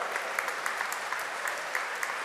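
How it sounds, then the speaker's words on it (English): Audience applause at a KTM motorcycle press conference at EICMA, a brief burst of steady clapping from a crowd in a hall, moderately distant and even. "first of all, applause, if you like it"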